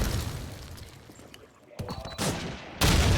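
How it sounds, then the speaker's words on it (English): Rapid gunfire bursts crack through smoke during a Call of Duty 2 LAN final match. The loud, close volleys come in separate clusters with brief lulls between them. "Ninja putting bullets through that smoke"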